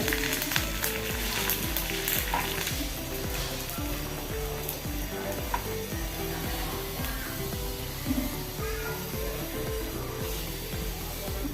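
Mustard seeds and curry leaves sizzle and crackle in hot oil, a continuous close frying hiss with scattered pops, held steady with no talk over it.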